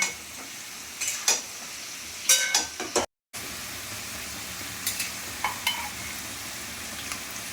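Turmeric and spices stirred in a frying pan for chicken kosha, a low soft sizzle with scattered spatula scrapes and clinks against the pan, broken by a brief dropout midway.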